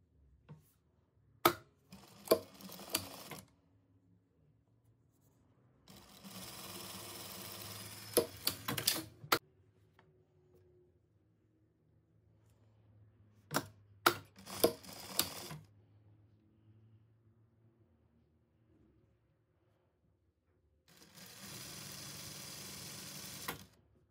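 An overlocker-style sewing machine finishes fabric seams in three separate bursts of rapid, buzzing stitching, each a few seconds long, with a few clicks and handling sounds between in a quiet room.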